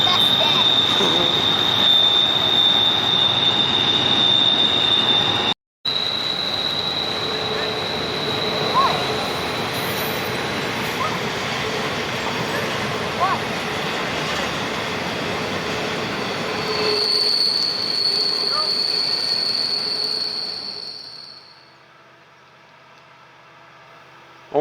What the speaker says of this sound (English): This is Norfolk Southern 257 bound for Chicago.